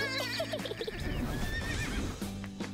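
A horse whinnies with rising and falling calls over a dense, busy cartoon soundtrack, heard near and fairly loud for a few seconds.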